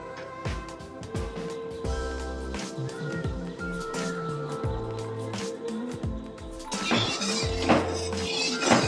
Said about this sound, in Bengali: এবার আমি বাসনগুলোকে ধুয়ে আর একবার গুছিয়ে নিই।